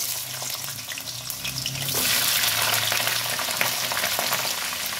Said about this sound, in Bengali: কুদলিগুলোকে ভালো করে ভেজে নেব।